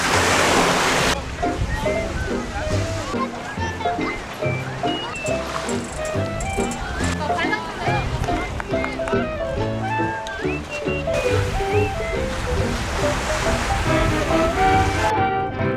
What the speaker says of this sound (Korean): 근데 여기는 호수가 아니에요. 여기는 바닷가야